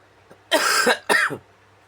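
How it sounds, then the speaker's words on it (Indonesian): Two harsh coughs close to the microphone, the second shorter, with quiet room tone before and after. "Sorry guys, lagi batuk."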